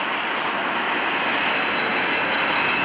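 A KC-135R Stratotanker roars through a max performance takeoff at an airshow, a loud, broad, unbroken jet-engine rush holding steady throughout, heard from a distance.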